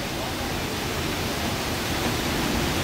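Karumparai falls at Keeripparai, a steady broadband rush of falling water roaring close and loud without pause.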